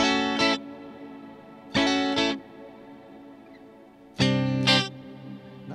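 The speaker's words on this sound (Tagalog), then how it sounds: "Naka-clean tone lang siya pero mahaba yung decay ng reverb niya." An electric guitar plays a clean tone through an M-Vave Tank G multi-effects unit set to a long reverb decay: three separate strummed chords ring out, each trailing off into a lingering wash with quiet gaps between, no voices.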